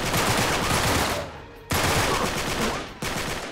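Bursts of rapid automatic gunfire in the video game Uncharted 3, loud and close, coming in three sustained volleys separated by brief gaps.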